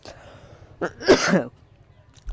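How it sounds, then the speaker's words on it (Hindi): A single short, harsh cough bursts out once amid faint background noise. "खांसी हो गया लास्ट में मेरे भाई"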